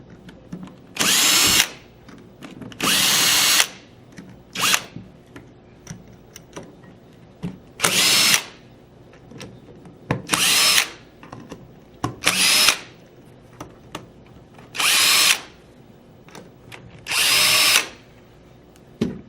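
A power drill loosening the tank adapter and receiver bolts on a Tippmann paintball marker, running in short loud bursts, about eight of them, with quiet clicks and handling noises between.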